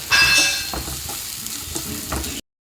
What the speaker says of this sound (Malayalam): നമ്മൾ ചെറിയ ഉള്ളിയൊക്കെ ചെറിയ രീതിയിലാണ് കട്ട് ചെയ്തെടുത്തിട്ടുള്ളത്. ഇനി നമുക്ക് ഇതൊന്ന് മൂപ്പിച്ചെടുക്കാം.